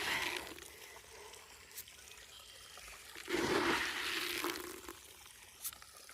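Fish food tossed into a backyard koi pond, a brief splashing swell of water near the middle, surrounded by faint trickling and quiet outdoor ambience.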